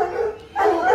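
Several hunting dogs bark in a continuous, overlapping chorus at close range, briefly dropping off before swelling louder again, with no talk over them.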